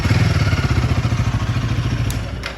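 A Royal Enfield Guerrilla 450 single-cylinder motorcycle idles close by with a steady, loud thumping exhaust pulse and a slight clatter, the rhythm holding evenly throughout.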